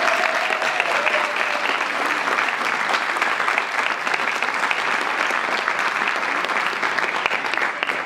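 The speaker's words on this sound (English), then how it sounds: "Please give them a round of applause." Dense, steady audience applause at a high school ceremony honoring a marching band, a large crowd clapping loudly and evenly throughout with no pause.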